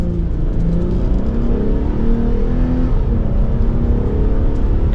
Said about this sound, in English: I do like how that V6 sounds.